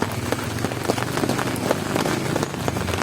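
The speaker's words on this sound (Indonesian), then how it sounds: "hingga sesi makan malam ini hujan masih saja belum pergi" Heavy rain keeps falling over a campsite at dinner time, a dense, steady patter of drops striking nearby surfaces, close and continuous.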